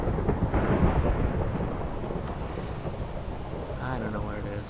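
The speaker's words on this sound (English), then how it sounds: "I guess that's just the sound of lightning" Thunder rumbles in a video game storm as a loud, rolling, continuous roar, with a voice speaking briefly near the end.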